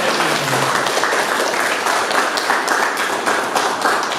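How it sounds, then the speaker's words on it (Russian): Loud, stormy applause from an audience at a literary gathering welcoming guest writer and journalist Nariman Ibragimov, dense steady clapping lasting throughout. "Бурными аплодисментами приветствуем нашего гостя Нариман Мельникович Ибрагимов."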